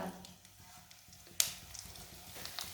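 Whole coriander and cumin seeds roasting in a small amount of hot oil over low heat, a faint, soft sizzle with light crackles and a sharp pop partway through.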